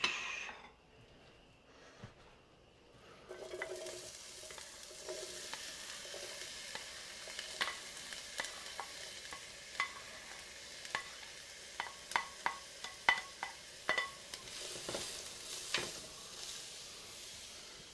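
Onions and peppers hit a hot pan and sauté with a soft, steady sizzle, after a quiet start. Sharp clicks and taps from stirring grow louder and more frequent toward the end.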